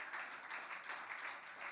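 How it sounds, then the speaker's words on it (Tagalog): A church congregation claps for the Lord in a steady, dense wash of applause, faint and distant, with no individual claps standing out. "Sige po, malakas sa palakpak."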